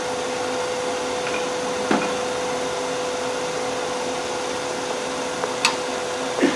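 A wood lathe hums steadily in a workshop while the outside of a spiral goblet is shaped, a constant motor drone with faint occasional tool ticks and no voices.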